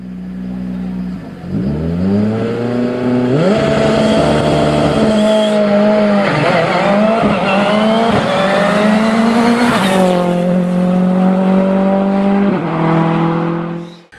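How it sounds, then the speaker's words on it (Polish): A rally car revs hard at close range, its engine pitch climbing and dropping through repeated throttle bursts, with screeching tire skids mixed in, loud and continuous for about fourteen seconds. "samochody rajdowe no muszą wydawać z siebie jakiś dźwięk"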